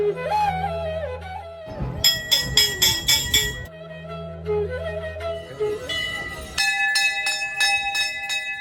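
Hanging temple bells ring at Golu Devta temple in Ghorakhal, with bursts of rapid, overlapping metallic clangs alternating with stretches of sustained bell tones and a low drone, loud and close.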